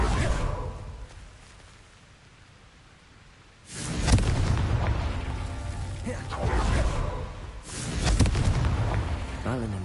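Confringo spell blasts in Hogwarts Legacy go off as deep booming explosions with rushing whooshes: a quiet lull, then a loud burst with a long rumbling tail, followed by two more detonations.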